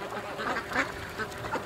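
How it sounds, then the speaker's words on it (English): Tiny Muscovy ducklings quacking and peeping softly in a quick, overlapping chatter, fairly faint and close by. "the little duckies"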